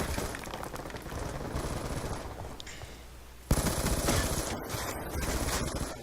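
Sustained bursts of light machine gun fire from an LMG in Call of Duty: Black Ops 2, continuous rapid shots with a brief lull and then a sharper, louder resumption, no voices.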